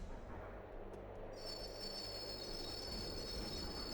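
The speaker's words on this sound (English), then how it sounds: "Horrendous screech as that train comes to a halt." In the video game Persona 2: Eternal Punishment, a train rumbles to a halt as its wheels break into a sustained, piercing metallic screech over low rolling noise, quiet overall and without speech.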